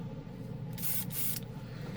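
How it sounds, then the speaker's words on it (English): An airbrush loaded with pre-thinned paint gives two quick hissing bursts of spray, close and distinct, with a short gap between them over a faint room hum. "It's pre-thinned. I just loaded the airbrush."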